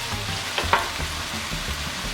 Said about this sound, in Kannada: ಈಗ ಬದನೆಕಾಯಿನ ನಾನು ಈ ರೀತಿ ಚೆನ್ನಾಗಿ ಫ್ರೈ ಮಾಡ್ಕೊಂಡಿದ್ದೀನಿ.